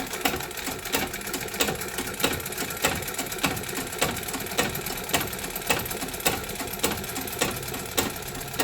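A sewing machine stitches a fall onto a saree, running slowly and steadily with a regular, rhythmic clatter throughout, close and fairly loud with no talking.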